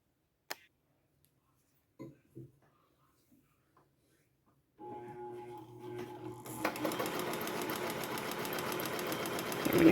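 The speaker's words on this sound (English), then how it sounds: "I'm just going to do a straight stitch for a second so you can see this machine working." A vintage Janome New Home sewing machine stitches in straight stitch, starting after a few quiet clicks and handling sounds, then running in a steady rapid mechanical chatter that speeds up near the end, close and moderately loud.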